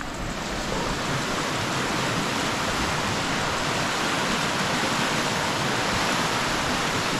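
The Collie River rushes past where a road crosses it, a steady, dense wash of flowing water with no pauses and no voices.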